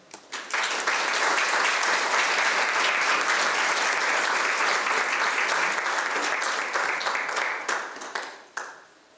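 An audience at an artist lecture applauds to welcome the lecturer Enrique Martínez Celaya, a dense, steady wash of clapping that rises quickly, holds for about eight seconds, then tapers off.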